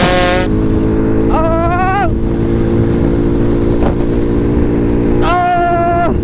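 A Honda Wave 125 motorcycle engine hums steadily and close while riding, with its pitch rising and falling a few times as the throttle changes.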